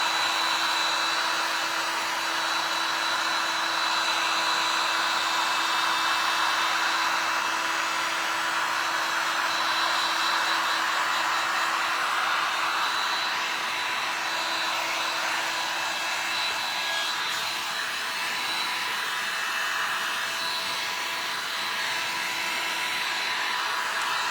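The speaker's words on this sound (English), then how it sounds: "The dryer blowing." A dryer blows steadily and loudly for the whole stretch, a continuous whooshing roar with a constant hum, alone and without voices.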